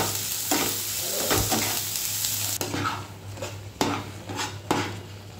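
Tadka for boiled dal being made in hot oil, a continuous close sizzle broken by metal spoon clinks and scrapes against the pan, several sharp knocks near the end, no talk.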